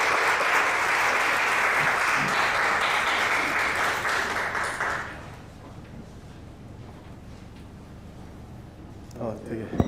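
A church congregation claps loudly to welcome a speaker at a Sunday worship service, broad applause that lasts about five seconds and then drops to quiet room noise with faint stirring.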